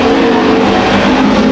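Field of American stock racers at Ocean Speedway, a loud, dense, continuous roar of several engines on the track at once, with no talking.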